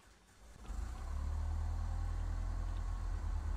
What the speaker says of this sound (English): move the magnetos over to start, it will start the engine